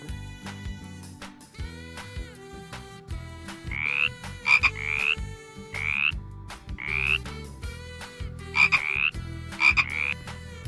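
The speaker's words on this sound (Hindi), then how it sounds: "अगला जानवर है मेंढक, जिसे हम इंग्लिश में बोलते हैं फ्रॉग।" Frog croaking in repeated bursts, loud rhythmic calls with a steady pulsing chorus underneath, no voices.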